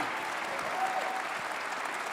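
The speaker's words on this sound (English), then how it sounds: "Let's give them a round of applause." Steady applause from a rally audience at a get-out-the-vote event in a Colorado county event center, a continuous wash of clapping held at an even level throughout.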